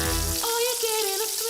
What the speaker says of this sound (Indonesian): kalau udah, kita goreng udangnya